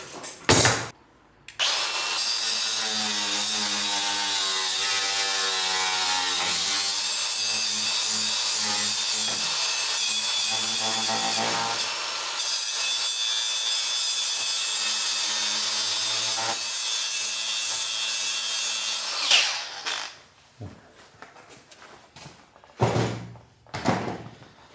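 A loud, continuous grinding shriek of an angle grinder's cutting disc biting through metal on a car, running steadily for about eighteen seconds before cutting off, followed by scattered clanks and rustling.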